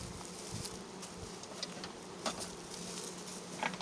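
Honeybees buzz steadily around an open single brood hive during an inspection, a continuous close swarm hum with faint taps and knocks scattered through it.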